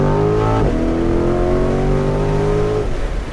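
Small motorbike engine revving nearby, a loud buzzing drone whose pitch climbs steadily, then drops off at the end.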